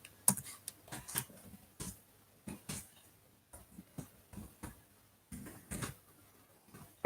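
Someone types an email address on a computer keyboard, irregular bursts of close, light key clicks with short pauses between groups.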